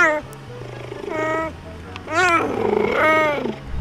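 A young big cat gives a few thin, high, squeaky roars, weak and strained, in short bursts close by against a low background hum.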